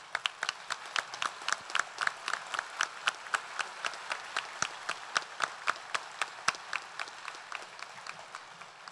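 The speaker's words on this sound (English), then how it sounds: "I would like for you to give a round of applause for Mr. Gavin Norris and Mr. Israel Medina" Applause at a spring graduation ceremony, a smaller crowd clapping in a sharp, fairly regular rhythm of distinct claps, moderately loud and steady with no talk over it.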